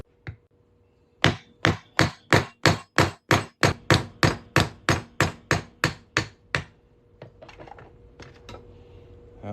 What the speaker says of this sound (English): let me just find my hammer, and we'll punch this on through.